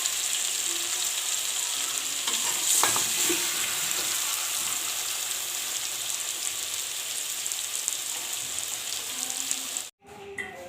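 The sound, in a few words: potatoes and aubergines frying in oil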